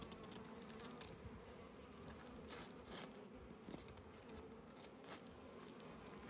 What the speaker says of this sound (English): Honeybees are pretty excited about the blood.